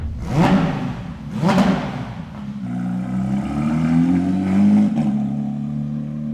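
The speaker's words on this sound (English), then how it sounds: "for this car, we chose GMG Racing's valved stainless steel offering. With valves, you have the option to quiet it down somewhat, and the tone is amazing." A Porsche 992 GT3 RS with a GMG Racing valved stainless steel exhaust gives two sharp revving blips and then settles into a sustained droning engine note that rises slightly, loud and close.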